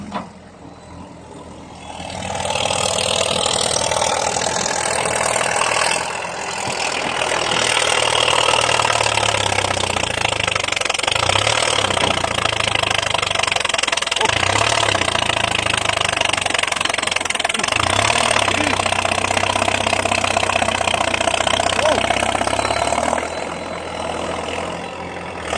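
Komatsu D50A bulldozer with a straight, loud exhaust and oil clutch pushing dirt piles during dredging work, its diesel engine running steadily and close by for about twenty seconds with rhythmic knocking pulses.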